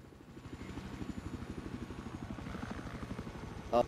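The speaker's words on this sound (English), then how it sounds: "Oh, watch out, there's a helicopter as well" Helicopter in a video game, a steady rhythmic rotor chop with engine drone running throughout at moderate level, ending in a brief sharp burst.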